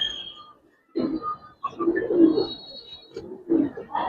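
Giribaz and racer pigeons coo in short murmuring bursts, close and fairly soft, with brief pauses between calls.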